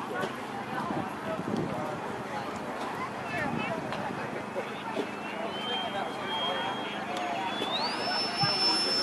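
A model jet turbine at an aeromodelers' fly-in spools up for a high-speed pass, its whine climbing steadily in pitch over a loud, continuous roar of outdoor noise.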